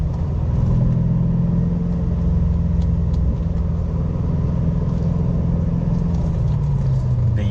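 A C4 Corvette with a Hurst-shifted manual gearbox cruises at half throttle on a road trip, its engine holding a steady, deep rumble from start to end, with no one talking.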